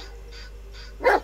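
One sharp, fairly loud bark from a dog in the horror video game Blair Witch, cutting in at the end of a quiet, humming stretch.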